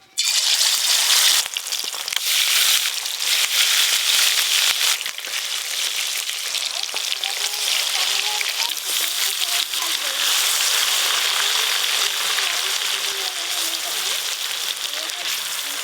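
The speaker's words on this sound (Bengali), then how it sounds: "প্রত্যেকটা চিকেনের পিস ভালো করে ভাজবো।" Chicken pieces for chicken chaap frying in a pan of hot oil, a loud, dense, steady sizzle that runs unbroken throughout, with occasional soft clinks and a voice talking now and then.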